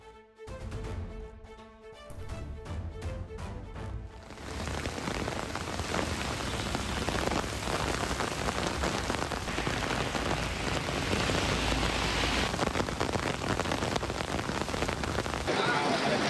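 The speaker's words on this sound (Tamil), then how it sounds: "ஹோசூர் மற்றும் சுற்றுவட்டார பகுதிகளில் 1 மணி நேரத்திற்கு மேலாக கனமழை கொட்டி தீர்த்தது" Heavy downpour in Hosur, India, lasting over an hour: after a few seconds of a tonal intro, a dense, steady roar of rain hammering on surfaces fills the scene, loud and continuous, with no voices.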